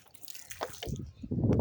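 Water splashes from a bottle onto a rooftop in short sprinkled bursts, a few close spattering drips followed by heavier splashy gushes near the end.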